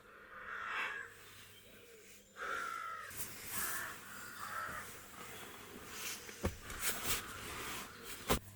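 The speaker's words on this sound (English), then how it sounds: "The birds are so noisy." Crows caw harshly and repeatedly near a van campsite in Ireland, the calls overlapping into a noisy chorus with a few sharp knocks near the end, no talking.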